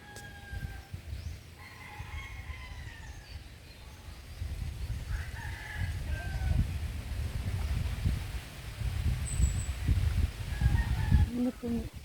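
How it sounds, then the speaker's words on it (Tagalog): Roosters crowing and chickens calling outdoors in a rural province near a quiet seashore at high tide, the calls spread out over a steady low rumble of wind and surf. "ninot kang tingog sa hangin, manok, langgam"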